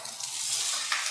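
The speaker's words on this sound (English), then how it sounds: "So you can hear it sautéing. It's got a nice sizzle sound." Food sautéing in a hot pan gives a steady, close sizzle with a continuous hiss throughout and no talk over it.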